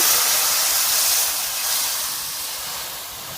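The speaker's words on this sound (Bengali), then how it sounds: "মশলা দেওয়া জলটা কড়াইয়ের মধ্যে দিয়ে দেব।" Spiced mustard-paste water poured into a hot pan after frying pabda fish gives a steady, loud steam hiss that eases slightly as it settles, with no talking.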